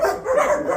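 Puppies barking and yipping close by in a short, continuous burst of high-pitched yelps with no talking.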